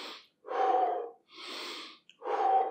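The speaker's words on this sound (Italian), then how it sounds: "apro, respiro e butto fuori" Heavy exhalations during a dumbbell arm workout, three strong breaths out in a steady rhythm with short pauses between, close and fairly loud with no talking.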